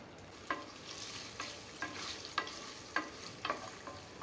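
Paneer pieces frying in a pan with cumin seeds, with a soft steady sizzle broken by about seven sharp scraping stir strokes at a regular pace, close but quiet.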